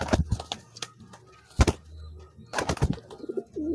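Pigeon cooing at close range, with soft repeated coos among wing flaps and handling noises.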